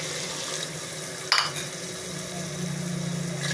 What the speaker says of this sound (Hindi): इतना पानी शामिल करेंगे कि जिसमें आलू और मटर दोनों चीज़ें गल जाएं।